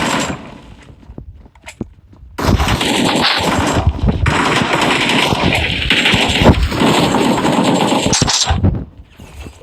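PUBG Mobile gunfire: a few scattered single shots, then a long loud sustained burst of automatic fire lasting several seconds before cutting off.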